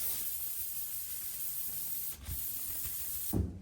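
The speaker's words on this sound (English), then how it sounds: "So we'll start by sanding out some of these scratches." Sandpaper on a hand sanding block rubs out scratches on a boat hull, a steady close scraping hiss with brief louder strokes near the end and no talk.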